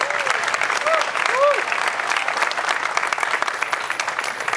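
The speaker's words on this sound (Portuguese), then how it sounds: "Por favor, pessoal, nossos aplausos." Crowd applause at a shooting club festival: steady, dense clapping from a large audience throughout, with a few brief whistles rising over it early on.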